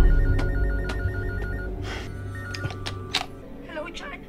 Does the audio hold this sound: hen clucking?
no